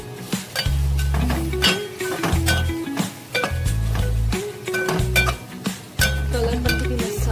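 Spices are stirred into reddish fried onions in a pot for dal khichdi. A spoon clinks and scrapes against the metal in quick irregular bursts over a droning low background.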